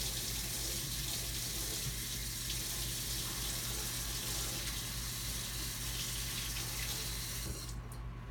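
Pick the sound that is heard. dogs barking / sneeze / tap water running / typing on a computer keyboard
tap water running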